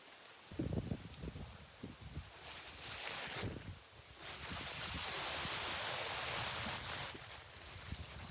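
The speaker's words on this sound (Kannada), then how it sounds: "ಇಷ್ಟು ಗಾಳಿ ಬೀಸ್ತಾ ಇದೆ ನೋಡಿ." Gusty wind buffets and roars across the microphone, swelling in strength toward the middle, with no voices heard.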